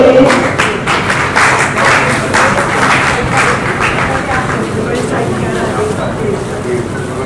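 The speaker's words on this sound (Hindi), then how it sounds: "तालियां बजती रहनी चाहिए।" Applause from the audience at a Hindi poetry gathering in a hall, broadband clapping sustained at an even level for several seconds, mixed with scattered thumps and voices in the room.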